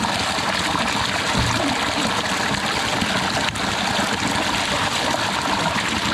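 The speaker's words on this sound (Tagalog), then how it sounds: "Sabog na sabog yan ng tubig, ano?" Water gushes and splashes steadily and loudly at a public bathing spot, a continuous rushing flow close by with no pause.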